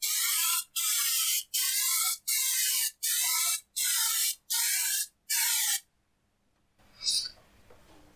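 Spray paint goes on in light coats over a body patch on a Ford Capri, eight evenly spaced loud hissing bursts of about half a second each, separated by short pauses, followed by silence and one faint later hiss.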